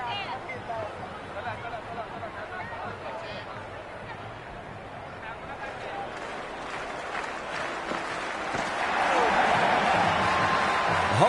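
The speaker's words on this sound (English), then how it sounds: "The crowd is electric right now." A stadium crowd in an IPL cricket video game roars and cheers in a continuous wash of noise that swells louder toward the end, with commentary voices heard over it.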